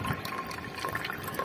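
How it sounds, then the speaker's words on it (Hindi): Water runs steadily into the inlet tank of a Supreme solar water heater that has an overflow problem, making a continuous close trickling and splashing with no talk over it. "पानी भी थोड़ा थोड़ा कम आ रहा है यहाँ से"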